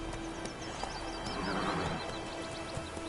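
Roach, the horse in The Witcher video game, lets out a faint whinny over soft, distant trotting hoofbeats against a quiet background.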